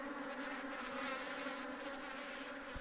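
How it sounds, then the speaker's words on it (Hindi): Honey bees buzzing steadily inside a merged beehive colony, a close, continuous drone with a fairly even hum and no talking. "थोड़ी देर के बाद देखते हैं कि मधुमक्खियाँ शोर करती है"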